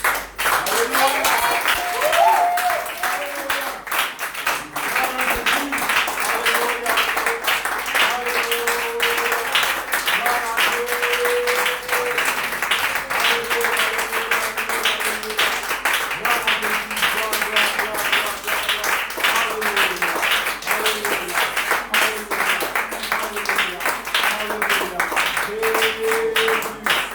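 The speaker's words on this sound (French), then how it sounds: "je veux encore qu'on acclame le Seigneur" A church congregation claps continuously for close to half a minute, a dense, even patter of many hands under a voice and some tonal accompaniment.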